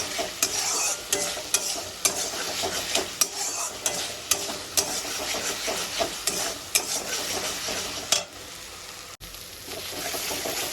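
Ginger and garlic sauté in a pan with a steady, loud sizzle, broken by regular scraping strokes of a stirring spoon and one brief pause near the end.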